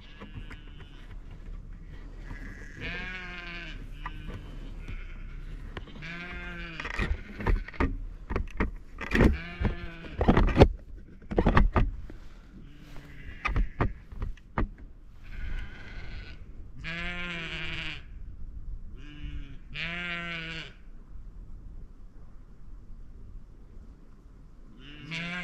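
A baby sheep by the roadside bleats repeatedly in short, wavering calls spaced a few seconds apart, close and clear over faint outdoor background, with a few sharper bursts near the middle.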